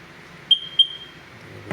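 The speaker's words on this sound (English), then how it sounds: "See if I can catch that beautiful double beep footage." Two short, sharp electronic beeps from a Sea-Doo personal watercraft as its safety lanyard is attached, spaced about a quarter second apart and followed by a faint lingering tone over a quiet background.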